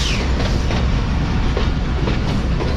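Subak Raftar railcar train running into Jhelum railway station, a loud steady rumble of rolling wheels with faint clickety-clack beats over rail joints, close and continuous throughout, with no voices.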